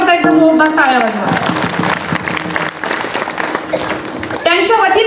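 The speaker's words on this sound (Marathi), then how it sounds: "त्यांच्याकरता एकदम जोरदार टाळ्या वाजवा" A crowd claps at a kirtan gathering, loud and sustained for a few seconds, while a voice speaks before and after it.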